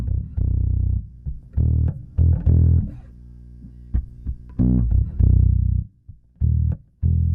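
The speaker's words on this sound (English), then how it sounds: "Like full distortion like this." Music played through full distortion from a Softube Summit TLA-100A compressor plugin, with gritty, saturated bursts of sound separated by short gaps.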